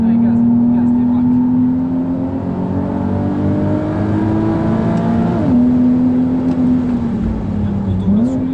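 Nissan 370Z roadster engine revving hard on the Circuit de Nogaro racetrack, a loud close droning note that climbs steadily, dips sharply at a gear change, then climbs again, with a voice talking over it.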